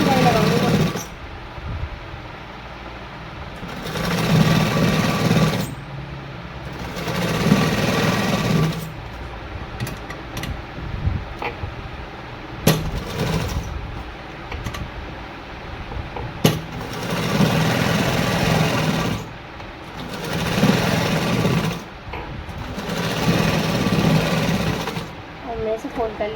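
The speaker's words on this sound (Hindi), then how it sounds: "इस तरह से सिलाई लगाऊंगी।" Electric sewing machine stitching a folded salwar seam, running in several long bursts with pauses between, fairly loud and close, while someone talks over it.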